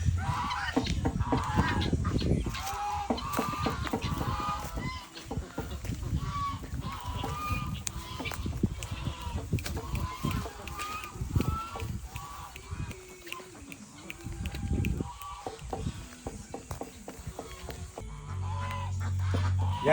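Free-range geese and ducks, Peking ducks among them, honk and quack in a busy, close chorus of repeated calls, with occasional rustling in between.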